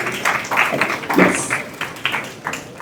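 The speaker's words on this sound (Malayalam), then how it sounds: "അവർക്കൊരു നല്ല കയ്യടി കൊടുക്കാം നമുക്ക്, അല്ലെ?" Audience applause at a Malayalam movie audio launch for Madhuramee Jeevitham, a dense wash of hand claps with a voice briefly heard over it, steady and fairly loud for about three seconds.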